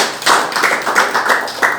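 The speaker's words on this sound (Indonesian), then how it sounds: "Tepuk tangan." Audience at a student council (OSIS) candidate debate clapping, a close, steady patter of hands that swells and dips in uneven bursts for a short stretch, with no talking over it.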